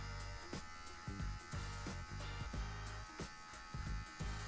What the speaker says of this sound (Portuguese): Usa a ponta da máquina.